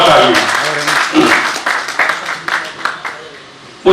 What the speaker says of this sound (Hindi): उन सबके लिए भी मैं चाहूंगा कि वह जोरदार तालियां